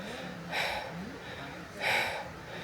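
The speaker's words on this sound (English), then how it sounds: "I was breathing super heavy." A hiker on the Inca Trail breathes heavily in two loud, sharp gasps spaced about a second and a half apart, close to the microphone and separated by quieter background sound.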